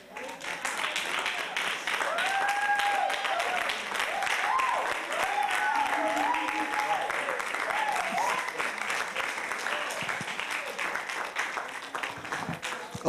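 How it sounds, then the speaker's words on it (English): A church congregation claps together in sustained, fairly loud applause, with scattered voices and cheers mixed into the dense clapping throughout. "Come on, put your hands together"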